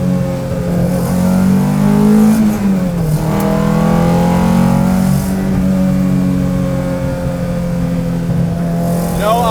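A 1969 Datsun 510 track car's high-revving engine, roughly 180 horsepower, heard loud and close from inside as it climbs and drops through the revs with rising and falling tones.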